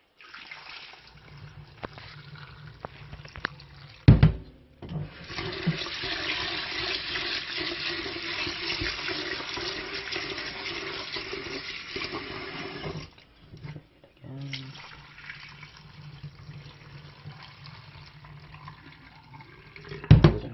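Water runs and drains in a sink, a steady rushing flow with a couple of clunks, a brief pause, then more running and gurgling, and no voices.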